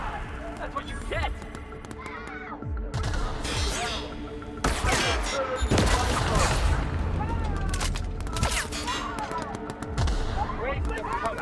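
Gunfire in the video game The Outer Worlds, with bursts of rapid shots and heavier blasts scattered through a chaotic fight, close and loud, mixed with game voices and other combat noise.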